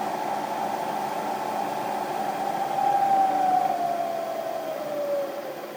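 A Bridgeport milling machine motor, speed-controlled by a VFD, hums with a steady, clear whine that holds for a few seconds and then slides gradually lower in pitch as the motor slows, with no talking over it.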